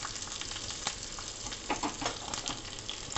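Hot tempering oil with chilies sizzles and crackles steadily with small popping bursts, a close, busy frying sound with no voices.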